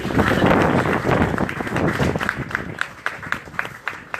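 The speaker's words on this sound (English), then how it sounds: "Let's give the audience a round of applause." Audience at a book lunch gives a round of applause, dense clapping at first that thins into scattered individual claps toward the end.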